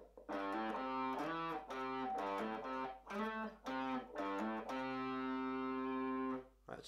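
A distorted electric guitar plays a phrase of the solo, a run of sustained picked and hammered notes in a short rhythmic pattern that ends on a long held note, played alone and fairly clear.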